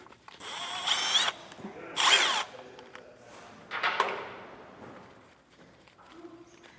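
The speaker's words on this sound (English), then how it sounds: "just go ahead and run the screws in there just to clean up the threads" A power drill runs screws into threaded holes on the frame of a 2022 Ford F-350 to clean the threads during an air helper spring install. It gives three short whirring bursts in a quiet space, with faint talk in the background.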